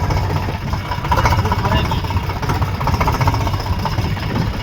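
A loaded tractor engine rumbles steadily while driving home, a continuous low, close drone with slight vibration and no pauses.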